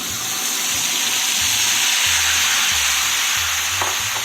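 Marinated Bihari beef boti pieces sizzle loudly in a frying pan alongside fried onions, a steady close hiss of frying with occasional stirring scrapes and no voices.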